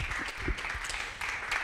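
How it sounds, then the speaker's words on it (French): Audience applause at a talk on ecological transition, a steady patter of many hands clapping at moderate distance, continuous through the moment with brief dips. "vous pouvez l'applaudir"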